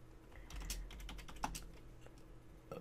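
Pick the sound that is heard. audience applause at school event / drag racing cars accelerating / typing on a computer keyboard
typing on a computer keyboard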